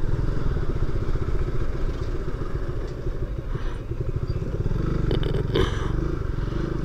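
A motorcycle rides along a dusty road strewn with sand and gravel, its engine a steady, loud drone close by, with rattling and scraping from the loose surface and a brief burst of crackle near the end.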